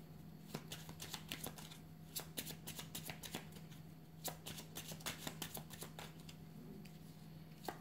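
Tarot cards are shuffled and drawn by hand, a quick run of crisp flicks and riffles close to the listener, with no talk over them.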